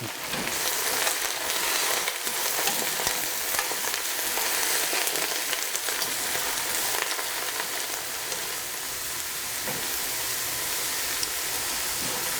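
Greens sautéing in oil in a pan give a steady, close broadband sizzle and hiss that runs unbroken for the whole stretch, with faint stirring scrapes and no voices.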